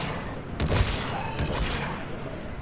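Shotgun fire in Mass Effect 3, two heavy blasts about a second apart with a booming, rumbling tail, loud and close on a battlefield with no talk.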